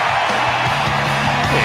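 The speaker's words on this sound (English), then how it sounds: "Huge crowd, too." A huge crowd roars and cheers in a dense, loud wash of voices that stays constant through the short stretch, with yells rising out of the mass.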